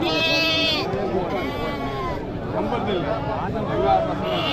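Repeated loud, near bleats from young male goats at the busy Natrampalli Monday goat market ahead of Deepavali, rising over a dense murmur of crowd voices.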